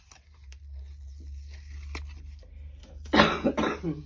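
One sharp cough near the end, close and loud, after several seconds of quiet low hum.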